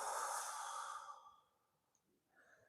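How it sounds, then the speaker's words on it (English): A long, steady exhale during a relaxation breathing exercise, breath-noise strong at first then tapering off over about a second and a half, with faint soft breathing after. "And breathe out."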